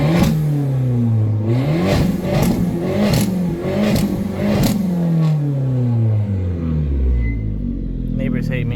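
A car fitted with an aftermarket engine tune revs up and then winds down, the engine note rising and falling in sweeps before settling into a low idle rumble with no popping or crackling on the overrun, heard close and loud.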